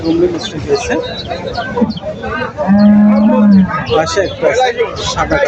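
A cow gives a long, loud moo amid a busy crowd at Bamundi cattle market before Eid al-Adha, with people talking throughout.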